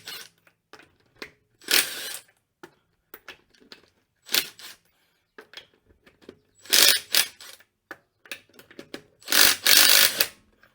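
A Milwaukee M18 cordless impact tool loosening already-cracked lug nuts on a 4th-generation Subaru Outback, heard as four loud bursts of a second or so each, separated by quiet gaps with small clicks and handling noises.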